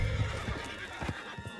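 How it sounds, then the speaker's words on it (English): A horse in the Red Dead Redemption 2 video game gives a loud whinny, followed by clip-clop hoofbeats close by. "Put Strauss on the back of John's horse"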